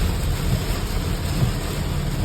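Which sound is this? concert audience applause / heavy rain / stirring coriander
heavy rain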